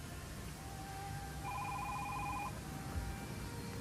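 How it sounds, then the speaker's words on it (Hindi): A landline telephone bell rings in a quiet indoor room in a classic drama scene, one clear ringing burst of about a second over low background hiss. "नाजो, जरा फोन तो सुन."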